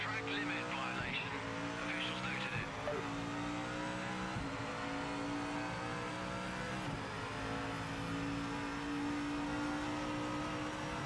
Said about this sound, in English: Tyres have lost grip, I think.